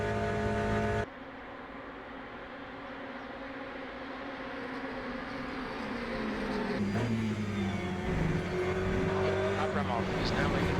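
Aston Martin and Porsche race cars in Le Mans Ultimate roar steadily through the whole stretch, a dense engine drone with pitch shifts as the cars change gear, and a voice talks over the top.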